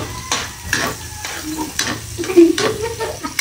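Onions fry in a hot pan, a steady sizzle broken by repeated scraping strokes of a utensil stirring them, close and fairly loud.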